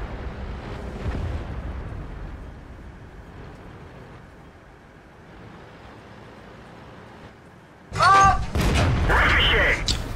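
A tank shell glances off armour in World of Tanks. After a stretch of low engine rumble comes a sharp, loud metallic clang with ringing tones, then a dense burst of crackling noise, with a voice briefly audible.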